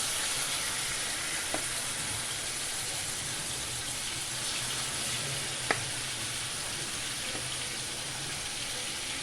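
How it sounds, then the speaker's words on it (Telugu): Marinated chicken for Punjabi-style butter chicken frying in a pan, a steady broadband sizzle running throughout at moderate level, with a few faint utensil clicks and no talking. "సో ఇప్పుడు మీరు కొంచెం చికెన్ వేసుకొని ఫ్రై చేసుకోండి."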